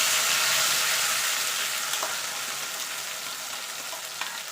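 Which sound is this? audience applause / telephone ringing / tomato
tomato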